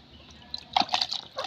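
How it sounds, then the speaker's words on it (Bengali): Water poured over a pigeon's feet during washing, a short soft splash and trickle that swells up after a quiet start and keeps burbling close by. "এখন পাটা ধুয়ে দেবো"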